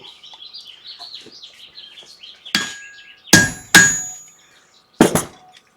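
A steel punch is struck on an anvil to cut a guitar pick, first with quieter taps and then with three loud, sharp ringing hammer blows spaced about a second apart.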